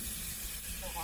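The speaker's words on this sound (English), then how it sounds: "It's sizzling." Hamburger meat, grass-fed and chopped up, sizzles on a Coleman camping grill outdoors in hot weather, giving a steady close hiss that runs briefly without break.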